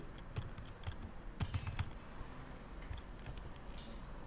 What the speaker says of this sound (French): Donc, on tape ce qu'on veut.